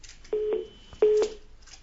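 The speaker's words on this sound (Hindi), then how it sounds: "फोन लाइन डिस्कनेक्ट हो गई है आपकी भी" Electronic tones sound twice during a broadcast phone-in call, each a short steady beep, fairly faint and heard alone on the line.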